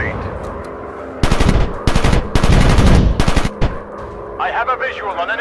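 Machine guns on World War One fighter planes rattle in the Warplanes video game, loud and close, in several rapid bursts with short gaps between them. Warbled engine or radio noise follows at the end.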